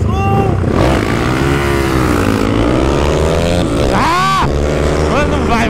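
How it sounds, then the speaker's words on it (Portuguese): A small motorcycle accelerates hard away from a traffic light, its engine note rising and climbing through gears in a loud, continuous roar, with voices calling out over it. "a motinha dele deslancha"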